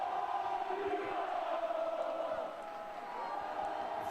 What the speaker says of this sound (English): This Bradford crowd urging the Bulls on.